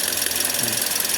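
A Toyota Vios dual VVT-i engine with a faulty ignition coil runs close by, its idle uneven with a faint knocking stumble, heard alone without talk.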